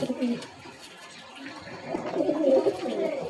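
A female breeder pigeon coos in low, soft bursts, rising and fading close by at moderate volume, with faint background noise.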